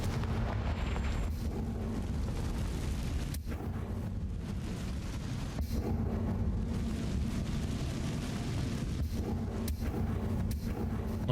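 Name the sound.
Confringo fire spell burning a spider web, Hogwarts Legacy video game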